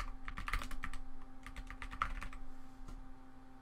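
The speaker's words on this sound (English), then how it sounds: "in Search Settings, type Hardware Acceleration." Quick keystrokes tapped on a computer keyboard, a short burst of clicks close by in a quiet room.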